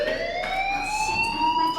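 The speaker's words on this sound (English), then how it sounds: "Hey, do you hear that fire alarm?" Fire alarm from the video game Life Is Strange, a steady electronic tone with rising pitch, ringing continuously and clearly at moderate loudness with no talk over it.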